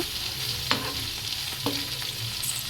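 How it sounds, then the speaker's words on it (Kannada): Tomatoes fry in hot oil with a dense, even sizzle close by, marked by a couple of faint spoon clicks and no talking. "ನೋಡಿ, ಇವಾಗ ನಾನು ಟೊಮೊಟೊ ಹಾಕಿ ಫ್ರೈ ಮಾಡ್ತಾಯಿದ್ದೀನಿ"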